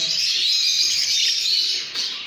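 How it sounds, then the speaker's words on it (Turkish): A dense chorus of many small birds chirping and twittering continuously, loud and close, with no pauses. "Bunlar yetişkin kuşlar."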